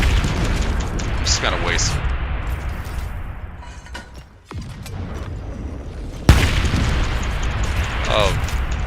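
Booming recoilless rifle shots and explosions in the video game Helldivers 2, with a sharp blast partway through and continuous rumbling combat noise underneath, while a person talks over it.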